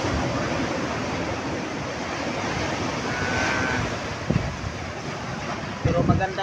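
Sea waves slosh and splash in a strong northeast monsoon wind, a steady close rushing wash with wind buffeting the microphone and two sharper splashes near the end.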